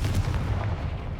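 A Confringo blasting spell from Hogwarts Legacy goes off as a deep, loud rumbling boom that fills the short moment, with no talk over it.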